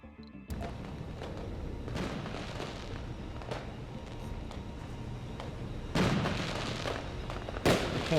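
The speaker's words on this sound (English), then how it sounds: "We're getting fireworks for producing food." Fireworks bursting in the Mars colony-building game Surviving Mars, a run of popping and crackling booms that swells louder toward the end, with no voices.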